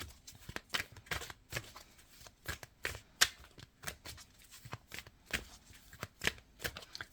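A deck of cards shuffled for a card reading, soft riffling flutters and taps repeating in quick irregular bursts, close and quiet with no talking.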